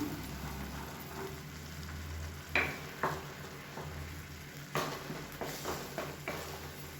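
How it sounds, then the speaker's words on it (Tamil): Water heating in a pan for wheat semolina kolukattai bubbles and hisses steadily, with occasional louder pops and soft clinks at close range over a constant low hum. "இப்போ நல்லா கொதிக்க ஆரம்பிக்குது."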